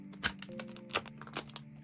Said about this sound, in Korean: 비닐이가 찢어졌어요.